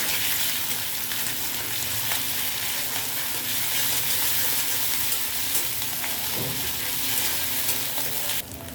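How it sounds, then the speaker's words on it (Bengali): Ground karkol seeds frying with browned chopped onion in a pan give a steady, close, continuous sizzle with occasional stirring scrapes, loud and unbroken throughout with no talking. "এবার আমি বেটে রাখা কারকলের বিচিগুলো দিয়ে দেব।"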